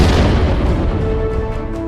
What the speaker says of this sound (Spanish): El estruendo ensordecedor del disparo llenó el pasillo, mientras un proyectil explosivo se precipitaba hacia arriba.